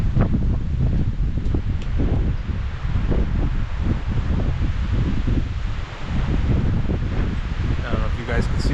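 Strong gusting wind blows through trees, a constant loud roar with heavy rumbling buffeting on the microphone and rustling in surges, lasting the whole stretch.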